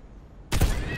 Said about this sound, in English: Let's see how a regular shot looks.